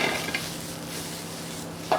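Shallots and garlic sautéing in extra virgin olive oil in a hot pan make a continuous soft sizzle, with a light utensil knock at the start and another near the end, close by and with no speech.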